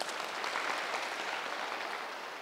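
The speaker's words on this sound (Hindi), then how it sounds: "जोरदार तालियां।" An audience claps in a steady, dense wash of applause at a quiz event, moderately distant and unbroken for a couple of seconds before easing slightly.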